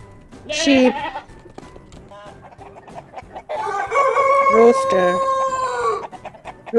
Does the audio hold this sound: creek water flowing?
no